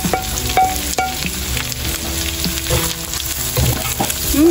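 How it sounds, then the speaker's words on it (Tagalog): Onion, garlic, ginger and chili sizzle loudly as they sauté with pork for Bicol express, a dense continuous frying hiss with occasional utensil clinks close by, no voices. "Ako po ay magigisa na ng mga ricado."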